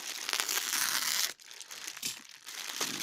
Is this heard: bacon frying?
no